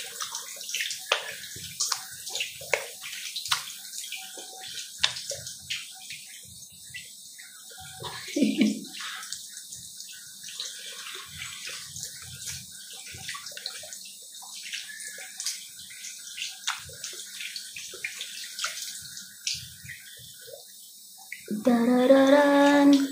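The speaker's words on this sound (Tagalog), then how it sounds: "So, banlawan na natin yung ating face." Water from a sink tap runs and splashes while a face is rinsed, making faint intermittent trickles and splashes over a long stretch that ends in a louder gush.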